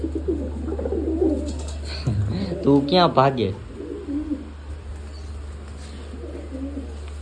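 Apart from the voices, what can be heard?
large pigeon cooing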